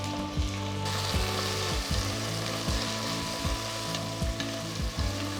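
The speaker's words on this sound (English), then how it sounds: "Saute the onions till they're a nice golden color." Sliced onions and slit green chillies saute in a pan with a steady close sizzle, interrupted by regular spatula stirs scraping across the pan every second or so, with no voices.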